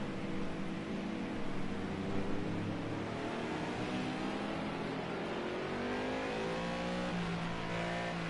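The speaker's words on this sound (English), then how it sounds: "Here he is then, your KTM coming to the line." A KTM GT3 race car during a one-hour Le Mans race, its engine holding a steady, fairly faint rising whine as it approaches the line, with a continuous hum underneath and no voices.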